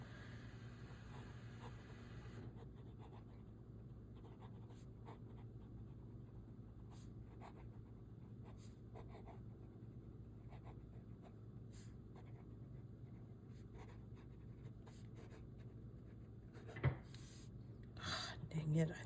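Fountain pen nib writing on paper with De Atramentis Document Brown ink, a faint, steady scratchy rasp of strokes over a constant low hum, with a louder tap near the end.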